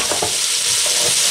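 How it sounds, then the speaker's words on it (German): Chicken pieces and mixed vegetables for a colourful Ebli pan fry sizzle loudly and steadily in a hot pan, with a few stirring scrapes, close and with no talking. "Und dann auch gleich schon zu Fleisch rein. Dann kann es auch anbraten ein bisschen."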